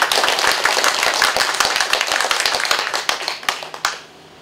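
Audience clapping breaks out at a community meeting in Pangyo to welcome a pastor, a dense run of handclaps close by that thins into a few scattered claps and stops near the end.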